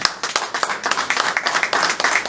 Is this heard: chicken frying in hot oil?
no